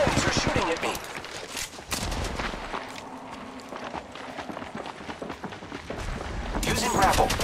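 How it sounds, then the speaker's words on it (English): Enemies shoot at the player in Apex Legends Mobile: a dense, continuous fusillade of nearby gunfire with rapid bursts and single cracks, mixed with footsteps and movement, growing louder toward the end. "The enemies are shooting at me."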